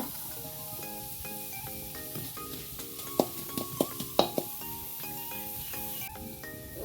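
Chopped garlic and onion sizzle in a pan with a close, steady frying hiss and a few sharp crackles. A soft melodic tune plays in the background.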